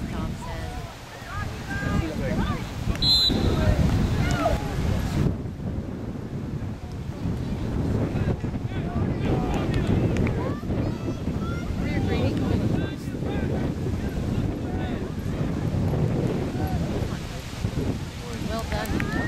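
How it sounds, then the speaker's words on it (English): Strong wind buffets the microphone outdoors in gusty rumbles, with a person's voice talking intermittently over the blustery roar. "How the wind is blowing me all around."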